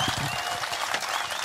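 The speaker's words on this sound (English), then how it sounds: "I think we should give Mark Radcliffe a round of applause from here." Festival audience applauds Mark Radcliffe after an on-stage interview in Ibiza, a brief, steady patter of clapping from a moderate crowd with no voices above it.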